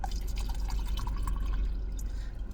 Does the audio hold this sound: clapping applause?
no